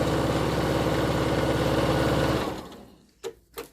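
A domestic sewing machine runs a straight stitch along fabric in a steady, fast mechanical whirr and rapid needle chatter for over two seconds, then stops, followed by two soft handling knocks.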